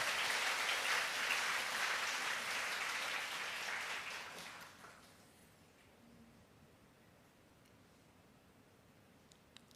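A church congregation at a Friday worship service applauds, a dense wash of clapping for about five seconds that tapers off into near silence.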